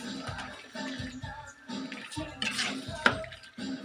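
Metal spoon or spatula scraping and clinking in a pan while squid is stirred into coconut milk, soft rhythmic strokes repeating steadily with a few brighter clinks.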